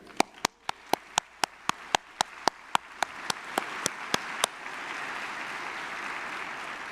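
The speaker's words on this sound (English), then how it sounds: "let's give a round of applause to all of these champions" At a public transit conference in Nashville, a run of evenly spaced, sharp single claps rings out for a few seconds before fading into a soft, hissy wash of distant audience applause.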